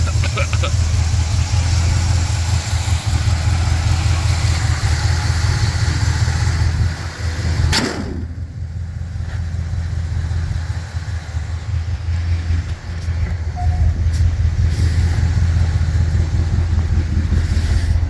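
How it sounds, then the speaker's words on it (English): A 1969 Chevy engine idles with a deep, throaty open-exhaust rumble, steady and close, with a brief sharp click partway through and faint talk beneath. "It's the sound of that open exhaust."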